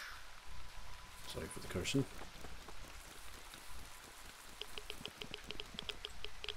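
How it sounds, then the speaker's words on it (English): Steady patter of rain in the survival shooter Zero Sievert, a dense hiss running the whole time beneath someone talking, with a brief louder burst near the start. "Look at this rain."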